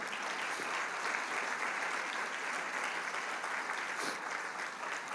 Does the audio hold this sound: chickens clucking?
no